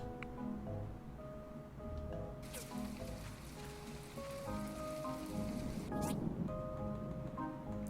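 Steady rain patters on surfaces in the farming game My Time at Portia, a soft, even wash over quiet background game music.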